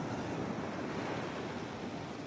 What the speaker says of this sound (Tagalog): O, yun yung dagat. Yan yung dagat, guys.